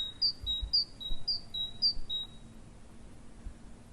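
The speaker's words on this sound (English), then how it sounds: "That will be a starling." A starling gives a series of thin, high, repeated chirps in a quick regular pattern, clear and fairly close over quiet background noise.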